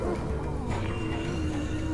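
Horses neighing in The Walking Dead video game, a whinny rising over a dense, rumbling background of game ambience, moderately close and partly masked.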